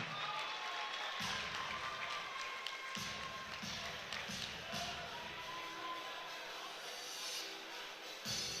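A crowd at an amateur fight night applauds after a TKO win. The clapping is faint and distant, a thin continuous patter with soft crowd murmur and shuffling underneath.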